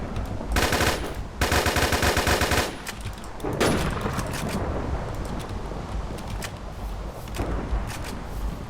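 In the survival game MineDayZ, machine-gun fire rattles in two loud, rapid bursts, followed by a lone gunshot and a long, rumbling tail.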